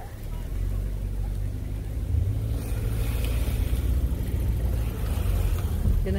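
Cars pass steadily on a road through a snowy forest area on Christmas Day, giving a continuous low engine and tyre rumble at moderate distance.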